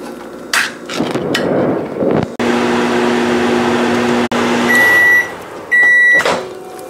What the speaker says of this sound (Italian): un minuto e mezzo in microonde, quindi inforniamo